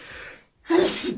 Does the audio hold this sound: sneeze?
yes